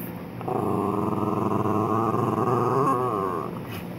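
Dog giving a rumbling, purring growl while chewing a headless toy, one sustained vibrating growl lasting a few seconds, close and clear with no talking.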